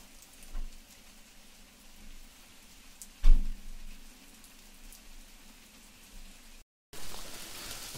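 Rain falls steadily outside a Shiva temple during a storm that brings hail, a soft continuous patter with a few louder knocks and thumps and a brief cut near the end.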